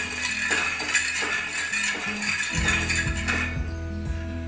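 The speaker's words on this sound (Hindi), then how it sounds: "शक्कर ले उतना ही हम लोग पानी मिक्स कर रहे हैं" A spoon scraping and clinking against a metal pan while sugar and water are stirred together for malpua syrup, with a steady hum and sizzle underneath, irregular close taps throughout, no talking.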